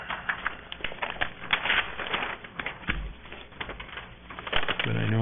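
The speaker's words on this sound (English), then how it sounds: "I'm shuffling too much paper here." Paper documents and bid packets shuffled at a sanitary district board meeting, with steady rustling and crinkling of sheets close by, intermittent sharp flicks and handling noises throughout, ending with a brief low thump.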